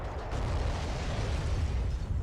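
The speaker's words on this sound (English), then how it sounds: "That was the best explosion I've ever seen." A torpedo explodes in the Red Rising mod, a deep, sustained rumbling boom that fills the short moment loudly with no voices over it.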